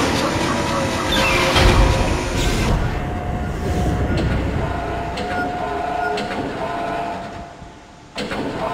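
A tram in the video game Dead Space rumbles and clatters along its track with metallic screeching on top, loud and close at first, easing toward the end before a sudden resurgence.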